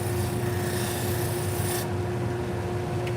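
Steady close rasping of a file or stone against the inside edge of a grooming shear during sharpening, a continuous scraping rub with the brightest part dropping away partway through.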